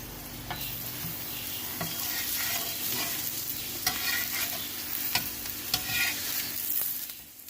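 An aloo paratha, a potato-stuffed flatbread, fries in ghee on a pan, giving a steady crackling sizzle broken by a few soft scraping stirs and spatula taps, close and unspoken throughout.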